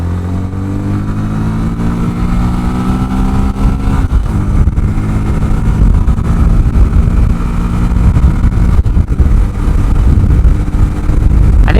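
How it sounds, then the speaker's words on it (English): A Honda Grom mini motorcycle cruises at speed on a highway, its small engine droning loud and steady with rising pitch as it climbs through gears, wind noise behind it. "this Honda Grom mini highway test"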